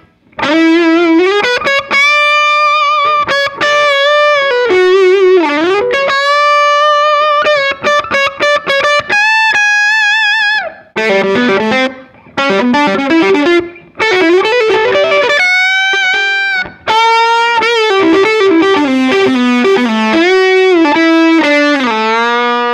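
A distorted electric guitar through a VOX AC30 tube amp plays a melodic lead with sustained, saturated notes and bends, loud and close, with brief pauses between phrases.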